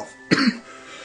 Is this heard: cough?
yes